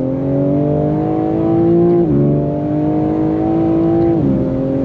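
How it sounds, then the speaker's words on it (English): A 2022 BMW M4 Competition engine revs up hard accelerating in second gear, pitch climbing steadily, dropping at a gear change, then rising again, loud and close. "Second gear, on throttle,"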